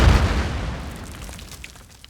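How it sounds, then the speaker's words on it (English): A flashbang grenade goes off in a single loud, low boom at the start, then rumbles and decays steadily over the next two seconds with no talking. "That's when a flashbang unexpectedly went off in Detective Ryan Fridlick's hand."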